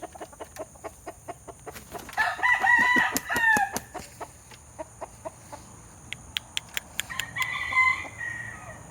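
A Hatch-type rooster in molt crows loudly and nearby once, partway through, amid a steady series of sharp clucks and calls from the bird, with no talking.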